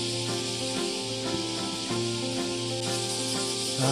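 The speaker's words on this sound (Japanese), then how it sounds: "ああ、めっちゃ鳴いてる。 聞こえますか、 このセミの鳴き声。" A dense, shrill buzzing drone of cicadas fills the air continuously on a summer day in Osaka, with a steady pulsing tonal hum underneath and no voices.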